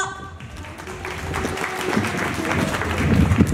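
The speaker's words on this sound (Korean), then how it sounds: "박수 부탁드립니다" An audience at a business seminar claps to welcome a speaker, the applause building steadily from moderate to fuller and louder over a few seconds, with no talk over it.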